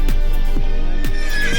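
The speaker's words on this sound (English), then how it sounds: "This Shire horse named Cracker was born in 1989 in Somerset, England" A Shire horse, a very large draught breed from Somerset, England, lets out a loud, close whinny, the quavering call repeating in several pulses over a steady background.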